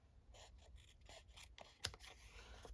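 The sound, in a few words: scissors snipping paper for a journal pocket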